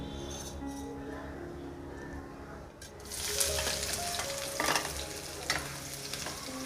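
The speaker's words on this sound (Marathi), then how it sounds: "तर आता फोडणी द्यायची तयारी चालू आहे हे तेल फोडणीसाठी" Oil heats in a pan for tempering in a home kitchen, a soft low background at first, then a louder, crackling sizzle with stirring scrapes for the second half, while someone talks briefly.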